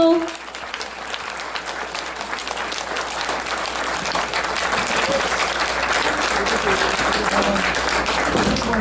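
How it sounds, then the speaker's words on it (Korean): A crowd at a book launch applauds to welcome an arriving guest, sustained dense clapping that swells gradually louder over several seconds, with faint voices mixed in beneath it. "큰 박수로 환영해 주십시오."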